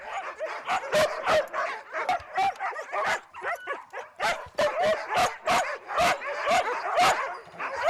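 A pack of sled dogs in the Russian Far East barking and yipping excitedly, dense overlapping barks and whines in a fast uneven stream, close and lively with no pause.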